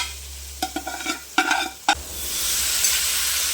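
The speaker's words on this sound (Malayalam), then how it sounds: "വേവിച്ച് വെച്ചിരിക്കുന്ന ബീഫ് ഇതിലേക്ക് ചേർത്ത് കൊടുക്കാം." Pre-cooked beef is stirred into frying spice powders for a catering-style wedding beef dry fry: a few quick scraping stirs, then a rising, steady sizzle, close by with no voices.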